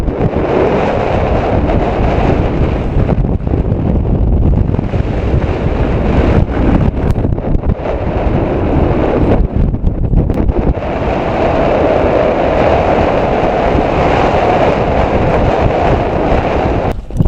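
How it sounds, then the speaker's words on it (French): Strong wind roars across a high mountain route on the Breithorn, buffeting the microphone in a dense, continuous rush for the whole stretch, loud and unbroken with only brief dips in the gusting. "On a vraiment des conditions très venteuses, hein, très venteuses."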